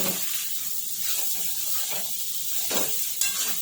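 Khaman mixture made from moong dal is stirred in a pan with sesame seeds, a soft scraping and sizzling swish with a few brief louder strokes, heard alone.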